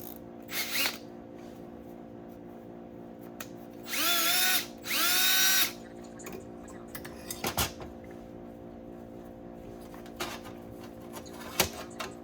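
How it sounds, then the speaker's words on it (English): A power drill whirs in two short, loud bursts, each about a second long, with scattered knocks and clatter around them. "I had the other drill. It's got a drill bit in it."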